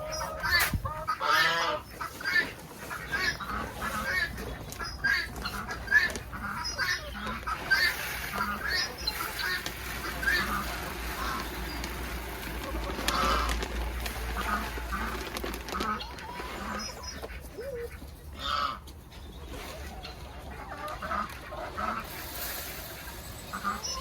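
A flock of laying hens clucks and squawks continuously while being fed layers pellets from feeders, a busy overlapping chorus of near and far calls, with occasional rustling.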